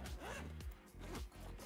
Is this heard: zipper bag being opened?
yes